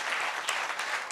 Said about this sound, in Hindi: ताली बजा के इनका अभिवादन कीजिए